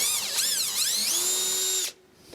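A power drill whirs up and down in speed while boring into truck metal, a sharp, close, high-pitched spin lasting under two seconds before cutting off abruptly.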